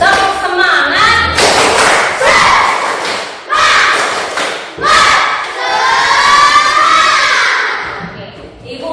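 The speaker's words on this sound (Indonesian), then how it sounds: "tepuk semangat" A group of children in a classroom doing a rhythmic spirit clap, loud bursts of unison claps and thumps mixed with shouted chanting voices, in several energetic phrases.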